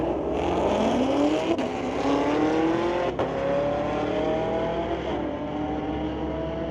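A 2019 Dodge Red Eye and a 2020 Chevy Camaro launch side by side in a drag race, engines roaring and climbing through the gears with rising pitch sweeps, loud and continuous with brief shift breaks.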